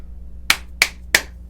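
Hands clap three times in an evenly spaced quick sequence, sharp and close against a quiet room hum, with no talk.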